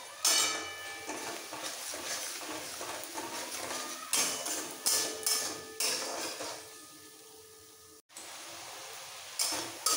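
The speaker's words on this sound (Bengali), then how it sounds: "এবার একসাথে কষিয়ে নেব।" Mutton fat with coriander and cumin powder stirred in a pan, a utensil scraping and clanking against the metal in repeated bursts with short pauses, close up and no talking.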